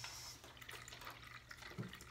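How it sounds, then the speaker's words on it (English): Water poured into a container about halfway for a kids' fizzy science experiment, a faint, steady running trickle with one small clunk near the end. "Fill it about halfway with water."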